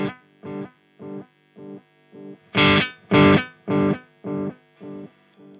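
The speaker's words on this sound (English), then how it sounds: "If I continue to turn it to the right, the echo gets louder and louder." Guitar notes played through a delay pedal as its FX level knob is turned up, a repeated plucked tone with echoes that swell from moderate to much louder, about eleven evenly spaced bursts, with no talking.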